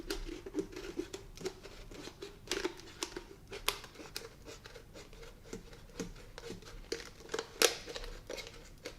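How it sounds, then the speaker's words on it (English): Scissors cut a plastic bottle in half, making a steady run of crinkly snips and crackles at close range with irregular sharp clicks and no talking. "we're going to take our scissors and we're going to cut it in half"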